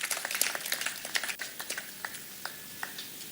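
Scattered applause from members in the Nigerian National Assembly chamber, faint and uneven with individual claps trailing off over a few seconds.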